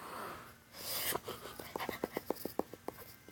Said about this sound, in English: That was the sound of me tapping.